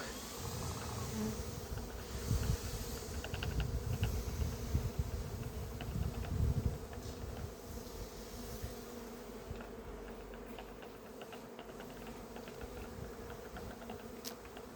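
Honeybees swarming around an open hive during a frame inspection, a dense steady buzzing close by that carries on throughout with no talking.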